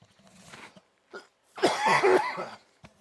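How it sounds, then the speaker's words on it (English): A few scattered coughs, close and fairly quiet, with a longer rough coughing burst in the middle and short pauses between. "I'm going to cough again"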